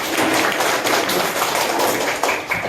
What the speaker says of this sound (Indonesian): Luar biasa, tepuk tangan untuk kita semuanya.